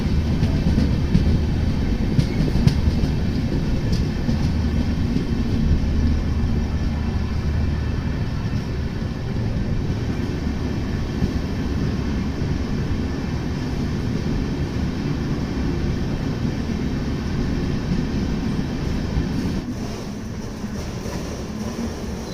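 Okha Puri Express passenger train running on the rails near Mancherial station, a loud steady rumble and roar heard from on board, continuous throughout with no talk.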